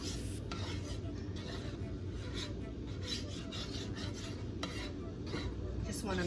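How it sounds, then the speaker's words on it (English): Butter melting in a hot pan before French toast goes in, giving a steady, close crackling sizzle with scraping and stirring against the pan throughout, no voices. "Just wanna melt the butter."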